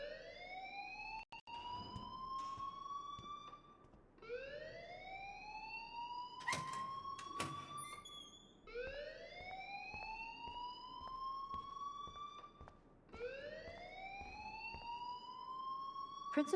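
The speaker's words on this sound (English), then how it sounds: "please turn off that alarm since that's your job" An alarm in the Life is Strange video game wails in repeating rising sweeps, each lasting about four seconds, steady and continuous with faint clicks between cycles.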